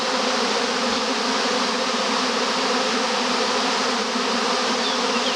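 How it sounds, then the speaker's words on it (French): Honey bees swarming fill the air with an intense, unbroken drone, loud and close on every side, with a constant high whine and no speech. "je suis en plein milieu des abeilles"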